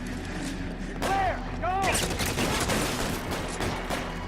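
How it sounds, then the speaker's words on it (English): Machine gun fire in the video game L.A. Noire, a loud rapid fusillade that rattles on continuously over the game's background sound, with a voice speaking through the shooting. "Now I have a machine gun!"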